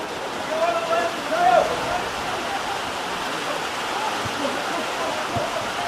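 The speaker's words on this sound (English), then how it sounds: "And somehow the rain gets even heavier." Heavy rain pours steadily over an outdoor football match between Northern Ireland and Scotland youth teams, a dense continuous hiss with a crowd or commentary murmur faintly beneath.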